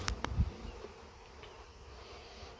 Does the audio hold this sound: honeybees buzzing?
yes